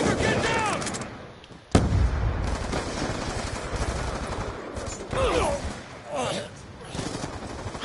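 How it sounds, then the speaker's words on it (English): A frag grenade thrown in Black Ops 2 multiplayer bursts with a sharp, loud boom, surrounded by scattered gunfire and game voice callouts throughout the busy firefight. "Throwing frag."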